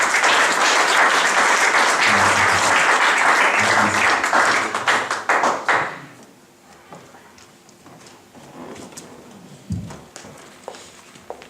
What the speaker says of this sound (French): Nous acclamons tous la parole de Dieu